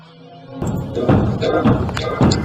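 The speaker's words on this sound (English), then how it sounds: "You can hear him bang the door, and then he's gone." Foxy, the animatronic fox, bangs on a closed security door in a Five Nights at Freddy's map built in Minecraft: a loud run of heavy, muffled thuds starting abruptly, several blows in quick uneven succession, close and alone without talk.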